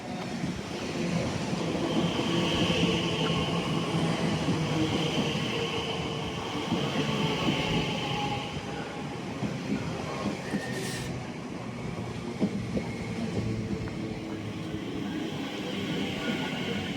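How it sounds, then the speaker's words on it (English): A London train pulls into the station and keeps running on a windy platform, a steady loud rumble of wheels and carriages with a brief high squeal partway through, no talking. "Here comes our train here."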